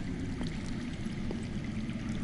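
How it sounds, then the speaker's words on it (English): Underground water flows in a steady, low rushing stream that stays even and continuous, heard in a Game of Thrones video game. "I hear water. From underground."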